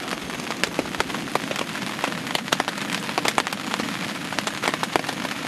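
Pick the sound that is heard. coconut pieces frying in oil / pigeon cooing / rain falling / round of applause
rain falling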